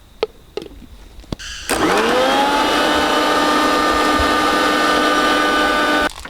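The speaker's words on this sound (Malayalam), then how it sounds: "ഇത് നമുക്ക് മിക്സിയിലിട്ട് ഒന്ന് അടിച്ചെടുക്കാം" A mixer grinder blends sugar, banana and biscuit into a shake: a few light clicks, then the motor surges up and whirs loud and steady for about four seconds before cutting off.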